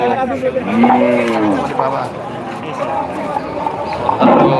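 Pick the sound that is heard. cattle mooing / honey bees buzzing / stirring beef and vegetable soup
cattle mooing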